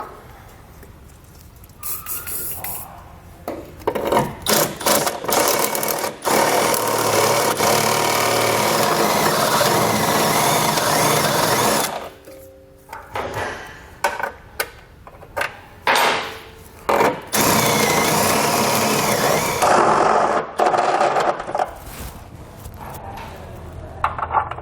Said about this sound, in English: We're going to drill a little bit, then we're going to check our spacer block.